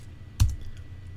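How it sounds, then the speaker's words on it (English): A single computer keyboard key press, the up arrow, while entering Cisco router commands in Packet Tracer, with one distinct close click followed by faint keyboard noise. "I'm just using the up arrow here, recalling the previous commands to save myself some typing."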